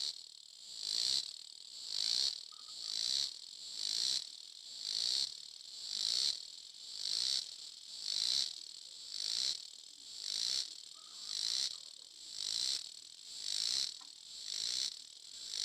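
A cicada of another species calls in a steady pulsing rhythm, about one rasping high-pitched burst per second, repeated evenly for the whole stretch with no other sound.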